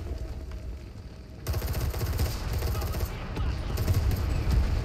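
Explosions and gunfire on a battlefield in the Enlisted video game, starting at moderate distance and then swelling into a dense, continuous rumble of blasts and rapid shots.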